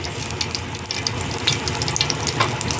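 Ingredients fry in clarified butter in a pan, giving a steady close crackling sizzle with small pops throughout.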